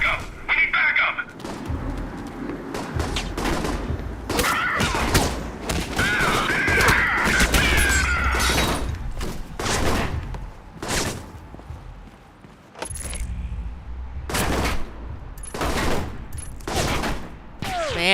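Repeated gunfire in the Alpha Protocol video game, loud bursts and single cracks recurring throughout with thuds and game noise, while voices shout over the fighting.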